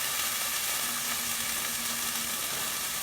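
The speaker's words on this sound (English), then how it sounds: "That's a loud sizzle." A continuous loud sizzle of frozen cooked chickpeas frying in a hot pot, bright and hissing, with no voices.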